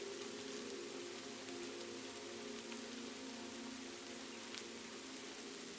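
Rain pours through a Kyoto night as a constant gentle wash of drops, faint and unbroken from start to finish, with a low steady drone beneath and no one speaking.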